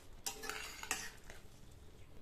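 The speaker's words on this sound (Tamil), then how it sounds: "தாளிப்பு சேர்த்துட்டு நல்லா ஒரு தடவை மிக்ஸ் பண்ணி விட்டுடலாம்." A utensil stirs cabbage and chana dal kootu with a tempering in a pan, giving a couple of quiet scraping strokes over a faint sizzle in an otherwise hushed close setting.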